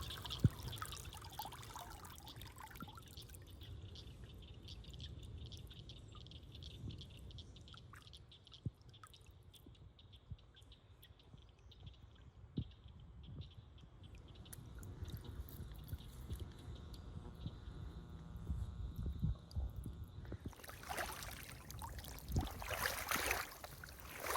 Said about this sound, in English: Now let's head into the water and see what kind of specimens we can find.